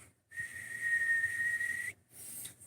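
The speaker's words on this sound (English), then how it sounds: "you could lay the phone flat in your hand and whistle across a speaker flat like this real" Someone whistles quietly across a phone speaker held flat in the hand, producing a thin, steady, slightly hissy tone held for over a second, then a brief higher flutter after a pause.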